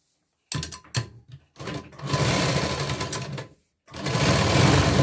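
A sewing machine stitches a katori blouse in close, loud bursts: a few short clicking starts, then two longer steady runs of rapid mechanical whirring split by a moment of silence.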